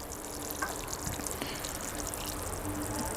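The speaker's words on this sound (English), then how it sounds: "Give it a thorough water." Water poured onto a freshly planted clematis in a pot, a faint continuous trickle and splash of soaking soil with scattered drips, quiet and steady with no voices.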